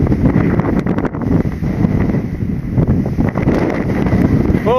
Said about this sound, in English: is that wind strong?